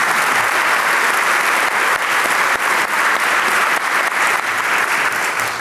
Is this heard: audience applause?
yes